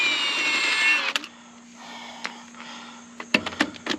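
An impact wrench with a chrome socket works the lug nuts on an old truck during a brake job, giving a steady whirring drone that stops abruptly, then several short, loud hammering bursts close by.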